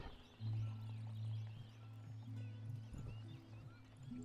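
Horse hooves clip-clop in a steady rhythm over a low hum in the video game Empire: Total War, with a brief whinny mixed in; no one speaks.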